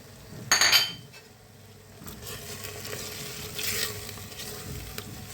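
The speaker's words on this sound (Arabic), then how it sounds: "نحركوهم هكايا. نزيد لها الحميصه، نخليها تتقلى" Vegetables with tomatoes, onion and parsley are stirred in a frying pot, a spoon scraping and clinking against the pot over a low steady sizzle, with a brief sharp metallic clink near the start.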